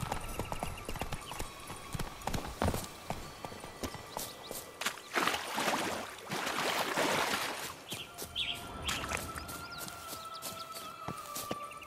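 Horse hooves clip-clopping at a steady gallop in The Witcher 3: Blood and Wine, a continuous rhythmic patter with faint birdsong and ambient game sounds layered around it.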